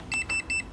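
A Holy Stone F181W drone gives three short, high electronic beeps in quick even succession, clear and close with nothing else heard.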